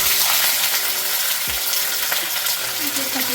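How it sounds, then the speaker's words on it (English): Pork ribs go into hot oil in a wok and fry with a steady, loud sizzle throughout, while light scraping and stirring knocks of utensil against metal sound close by. "Add some oil to the pot or wok and slide it in."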